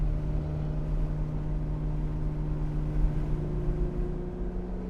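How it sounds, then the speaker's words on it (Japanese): Porsche 918 Spyder hybrid supercar driving in sport mode, a steady droning exhaust and engine hum heard from inside the cabin, continuous and even with no speech. "エキゾーストの音も少しサウンドが大きくなった気がします"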